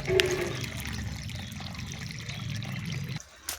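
Water runs steadily from a farm water pump driven by a motor, a continuous pouring rush with a low mechanical hum beneath it, close by, briefly dipping near the end.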